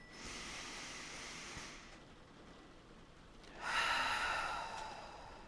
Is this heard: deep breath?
yes